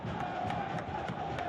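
A soccer stadium crowd of nearly 8,000 in Louisville, Kentucky, at a USL Championship match between LouCity and San Diego Loyal, keeps up a loud, rolling roar with rhythmic chant-like pulses, steady throughout.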